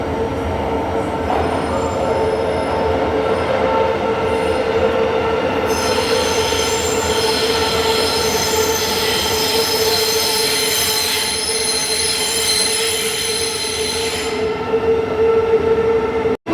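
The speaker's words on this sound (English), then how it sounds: "Right, train's arrived." A Thameslink train pulls into a station with loud, sustained high-pitched wheel squeal that rises partway through, over a steady rumble of rolling carriages and faint rail clicks.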